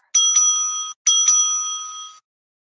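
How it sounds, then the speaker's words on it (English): A debate timing bell is rung twice, two bright ringing strikes each sustaining for about a second, loud and clear with silence after. "At the end of the 4th minute, the bell will be rung twice"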